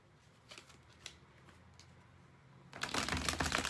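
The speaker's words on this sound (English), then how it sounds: "I'm going to shuffle your deck." A few soft taps and rustles, then a loud, rapid riffling of tarot cards being shuffled up close.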